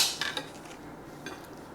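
Knife work on a board while onion, garlic, shallot and Thai chili are prepared for Vietnamese caramelized catfish, with a few crisp clinking hits near the start and another around midway, fairly quiet with no talking.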